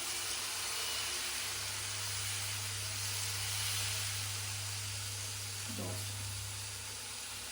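A dosa cooks on a hot pan with a continuous broad sizzling hiss over a low steady hum, and a brief knock partway through.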